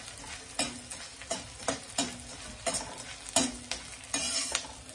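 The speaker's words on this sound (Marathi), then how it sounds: "हा बघा हे 2 बॅच मध्ये मी थोडा डिंक भाजून घेते" Edible gum (dink) roasts in a pan while a spoon stirs and scrapes it in a regular rhythm over a continuous crackling sizzle.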